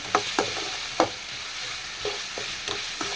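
Onions sautéing in a pan for a goat brain roast: a steady hiss of frying with a few sharp scraping clicks from stirring, the strongest clustered early and then spaced out, close by with no talking.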